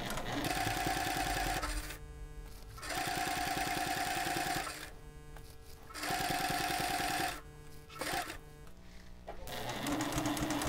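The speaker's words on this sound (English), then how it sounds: "I'm going to continue sewing." A home sewing machine stitches fabric for a zipper pouch in several loud, steady motor bursts, each run stopping briefly before starting again.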